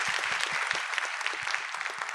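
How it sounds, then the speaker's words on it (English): Audience clapping for conference panelists, a dense, even wash of many hands with individual claps audible, sustained throughout at a moderate distance. "Please join me with a round of applause for all of them."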